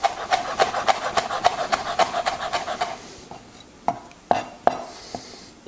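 A knife chopping a deseeded chili pepper finely on a wooden board, a quick steady run of sharp taps that slows into a few scattered cuts, close and clear.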